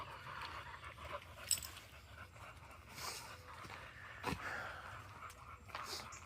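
A dog pants softly close by, quick breathy bursts repeating through a quiet indoor scene, with a faint whimper or two mixed in.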